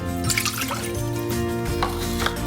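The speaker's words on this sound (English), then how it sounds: "And we'll start with our water. We'll dump that in." Water is dumped into a pan on a stove set to medium heat, the first step of homemade play-dough, a brief splashing pour under steady background music.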